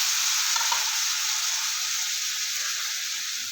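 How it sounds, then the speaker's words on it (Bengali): Chopped malabar spinach and potatoes being stirred into a pan of fried spice paste give a steady, close sizzle with faint scraping, alone and without talk. "এখানে আমি কেটে রাখা পুঁই শাক আলু দিয়ে দেবো"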